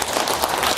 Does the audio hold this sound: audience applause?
yes